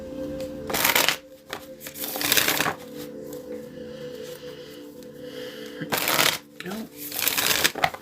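Cards are shuffled in several brisk riffling bursts, close and crisp, separated by pauses with a faint steady hum underneath.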